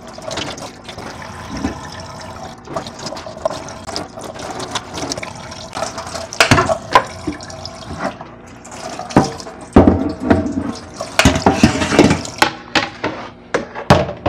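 Tap water runs into a sink while food is washed by hand, a loud close continuous splash with clattering and knocks from handling, no talking.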